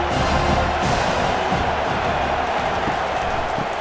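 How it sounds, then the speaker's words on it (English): A big stadium crowd at a college football national championship game, Ohio State playing, roars and cheers loudly and without a break, a dense wall of voices and noise. "Tremendous crowd atmosphere now in the final minute of play."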